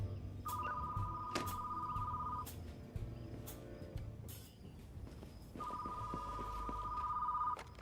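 Telephone ringing in the Retro Rewind Video Store Simulator game: two long bursts of electronic ringing, each about two seconds, separated by a pause, loud and clear over a low background hum.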